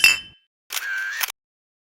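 A single bright clink of glasses raised in a toast, short and ringing, heard alone after a faint preceding sound.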